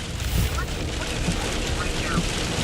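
Heavy rain from a severe tornado-warned storm in St. Genevieve County, Missouri, a loud dense hiss pounding steadily throughout, with occasional low rumbles and talk in the mix.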